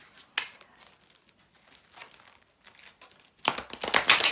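A deck of tarot cards is cut and handled, giving soft papery rustles and a couple of sharp flicks, then a louder burst of card shuffling and slapping near the end.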